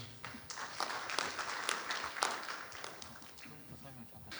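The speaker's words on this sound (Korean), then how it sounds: "박수로 모셔보겠습니다." An audience at a science journalists' conference applauds to welcome a speaker, with moderate, fairly faint clapping that rises and falls and then fades out.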